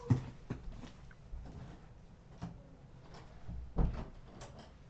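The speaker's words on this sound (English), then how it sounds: "Let me close this door." A door being closed indoors during a craft demonstration, heard as a series of soft knocks and bumps over a steady low background hum, with one sharper thud near the end.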